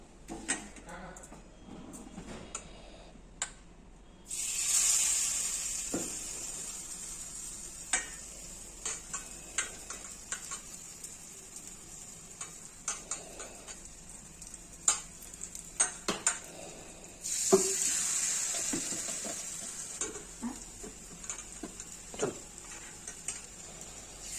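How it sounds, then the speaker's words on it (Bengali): Ash gourd fritters frying in rice flour batter in a pan: a steady faint sizzle with bursts of louder hissing as pieces go in, scattered light clicks and taps of a utensil throughout. "ভেজে নেব।"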